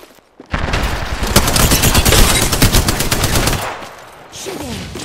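Sustained automatic gunfire in the video game Apex Legends rattles loud and close in a dense, continuous burst lasting several seconds before tapering into quieter rumble.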